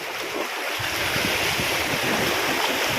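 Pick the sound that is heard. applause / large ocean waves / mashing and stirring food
large ocean waves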